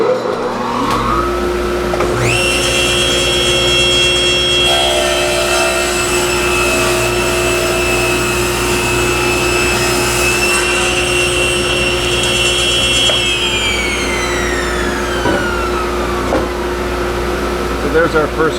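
A table saw cuts wood for a bluebird house while a dust collector roars steadily; the blade's pitch rises as it spins up, holds through the cut and winds down near the end.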